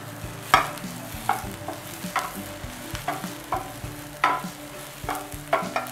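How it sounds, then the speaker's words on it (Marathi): Cluster beans being stir-fried in a pan for a Marathi-style vegetable dish: a steady low sizzle broken by about eight sharp scraping stirs at irregular intervals, close and moderately loud, with no talking. "आपल्याला गवारीचा थोडासा कलर बदलेपर्यंत परतून घ्यायचं आहे।"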